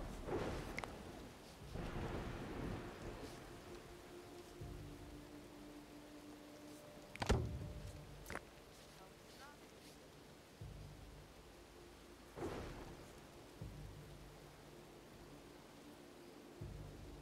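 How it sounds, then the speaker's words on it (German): Thunderstorm in the video game Dawn of Man: several sharp thunder cracks and rumbles break over a constant hiss of rain, some near and loud, others fainter. "Gewitter."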